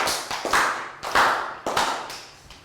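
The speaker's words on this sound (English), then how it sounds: "And to finish we'll do 5 claps." A class of children claps together in a schoolroom, a series of sharp group claps each ringing briefly into the room, loud and close with no talk.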